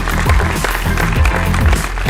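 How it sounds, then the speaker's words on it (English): A room of guests at a corporate brand and leadership awards gala claps for an honoree, a thick continuous wash of applause with a low steady hum underneath, moderately loud and unbroken. "Give him a round of applause,"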